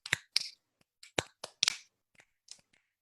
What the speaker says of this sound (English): snap your fingers near your ear